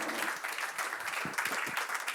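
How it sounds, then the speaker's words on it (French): Steady, dense applause from a seated audience after a conference presentation, many hands clapping at once in an even wash that holds for the whole stretch without a break. "On peut applaudir Justine pour cette présentation."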